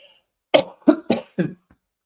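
Four sharp coughs in quick succession, close and fairly loud, followed by a faint short throat sound, with silence around them.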